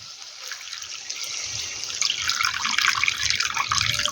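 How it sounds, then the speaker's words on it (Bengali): Water from rinsing a sour yogurt bowl is poured into a simmering spiced curry for pointed gourd dorma, a close liquid splash and trickle that swells into a fuller, louder pour. "এবার এর মধ্যে দেব টক দইয়ের বাটি ধোয়া জলটা"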